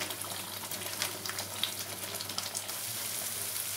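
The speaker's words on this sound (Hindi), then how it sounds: "इसको हम गैस का फ्लेम तेज करके मसाला फ्राई कर लेते हैं तेल छोड़ने तक।" Masala fries in oil over a high gas flame for Kashmiri dum aloo, a steady close sizzle with faint crackles and no talk.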